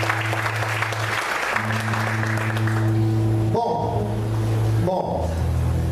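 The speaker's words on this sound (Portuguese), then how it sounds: "Mais fortes palmas, amém." Church congregation applauding loudly at an evening service, continuous clapping over sustained musical tones that break off briefly twice.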